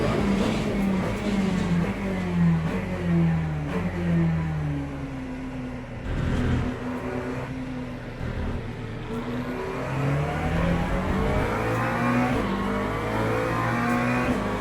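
GT3 race cars circle Monza in the rain in Le Mans Ultimate, engines revving steadily and rising and falling through gear changes, with a close, loud, continuous drone and no speech.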